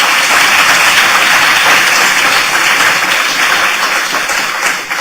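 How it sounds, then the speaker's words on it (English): An audience applauds at a 2011 conference opening roundtable, loud, continuous clapping from a large crowd that holds steady and eases off slightly at the very end. "I want to ask you for a round of applause for the American Indian Studies Center"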